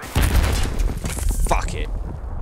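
A grenade blast in Battlefield 3 gameplay, a loud, sudden boom followed by crackling debris and rumble that fades over about two seconds, with a voice shouting over the noise.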